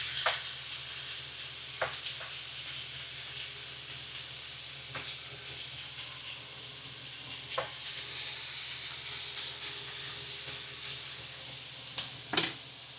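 Butter melts and sizzles steadily in a pan for budget cheesy Mexican rice, a soft continuous hiss with occasional faint clicks and spatters, no talking.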